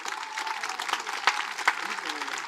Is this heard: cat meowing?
no